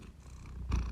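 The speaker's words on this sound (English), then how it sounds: "If you can hear that, it's my cat purring." A house cat purrs close by in a steady, low, continuous rumble, with a slight swell toward the end and no talking over it.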